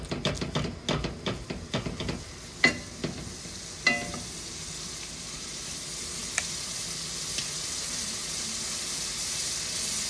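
Ground beef frying in a pan, opening with a quick run of spatula scrapes and taps that give way to a steady close sizzle, with a few more stirring clicks later and no voices.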